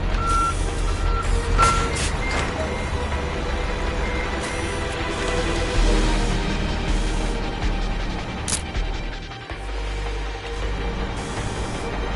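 Truck in The Amazing Spider-Man 2 video game rumbling close by as it arrives and reverses, with loud repeated backup beeps over a steady engine drone and a brief hiss near the end.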